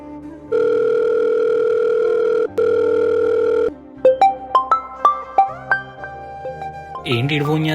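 A telephone dial tone hums steadily, briefly cutting out and resuming, then a quick run of dialing beeps follows and gives way to ringing tones as a call is placed.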